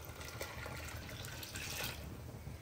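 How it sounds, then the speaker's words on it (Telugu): Water pours into a cooking pot holding smashed raw chana dal, a continuous close splashing stream lasting a few seconds and easing slightly at the end. "ఇలా చక్కగా నీళ్ళు వేసేసుకొని"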